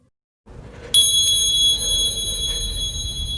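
In the horror film The Stare (Nozokime), a bell rings from inside a bedroom. A bright, high metallic tone rings out suddenly after a low rumble and holds steadily, then fades slightly toward the end.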